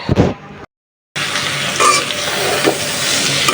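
Bitter gourd (karela) frying in a pan, a close, loud crackling sizzle with stirring scrapes that cuts out briefly after a short opening burst and then resumes steadily.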